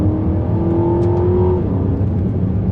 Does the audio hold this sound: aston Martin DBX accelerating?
yes